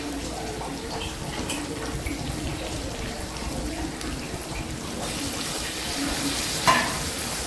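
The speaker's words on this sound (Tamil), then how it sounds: "சின்ன வெங்காயம் நல்லா வதங்கினதுக்கப்புறம் வெங்காயத்துக்கு தேவையான அளவு உப்பு சேர்த்து மறுபடியும் நல்லா வதக்கிக்கலாம்." Small shallots sauté with salt in a pan, a continuous close sizzle with faint stirring throughout and a single sharper clink near the end, no voices.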